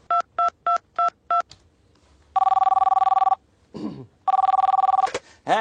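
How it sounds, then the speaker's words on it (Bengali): A phone number is keyed in as five crisp, evenly spaced dialing beeps. Two long, loud electronic ringback tones follow, with brief rustling between them. "আমরা ফোন করছি।"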